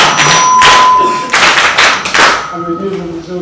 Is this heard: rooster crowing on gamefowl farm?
no